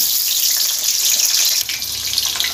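Potato pieces dropped into hot oil for a village-style Dak Bungalow chicken dish, giving off a loud, dense, steady sizzle with bright crackling hiss that eases slightly partway through.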